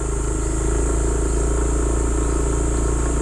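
A Yamaha Aerox motor scooter engine drones steadily at close range through forest roads, a constant buzzing hum with wind rush, as if heard while riding.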